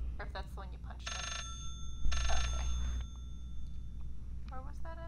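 Telephone bell ringing from inside a bookshelf in the video game Layers of Fear: two bright electronic ring bursts about a second apart. Voices and whistly sounds come and go around them over a low background drone.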